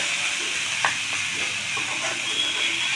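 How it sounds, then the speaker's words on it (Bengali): Egg with piring greens fries in a pan, a steady soft sizzle with a few light scraping stirs, close and moderately quiet. "ডিম শাক ভাজাটা হয়ে গেছে।"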